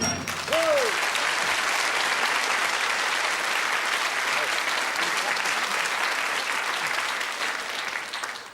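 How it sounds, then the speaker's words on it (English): A studio audience at a 1981 television game show breaks into loud, sustained applause, a dense wash of clapping that holds steady for several seconds before tapering slightly. "I sometimes wish we didn't have to whip the audience into quite such a frenzy of applause."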